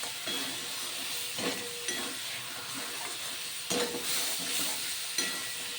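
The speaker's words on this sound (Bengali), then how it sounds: "কাঁকড়াগুলো দিয়ে দিলাম, নেড়ে চেড়ে কষিয়ে নেব মশলার সাথে।" Crab pieces stirred and fried with spices for a Bengali crab curry: a constant hissing sizzle with intermittent scraping stirs of a spatula against the pan, close and unaccompanied by speech.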